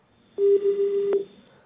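A telephone line cuts off with one loud, steady electronic tone that lasts just under a second, heard on its own.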